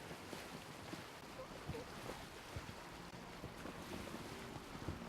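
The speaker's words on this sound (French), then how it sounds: "On dirait qu'il a un moteur quand même ce navire." A sailing ship moves across the sea in the video game Assassin's Creed Origins, giving a faint, steady wash of water and wind under a low drone, with light clicks and a few soft game sounds.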